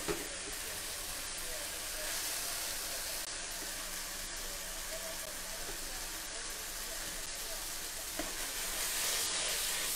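Sliced fish and flat rice noodles for hor fun are stir-fried and tossed in a wok, making a continuous close sizzle and hiss with occasional scraping bursts as the food is moved.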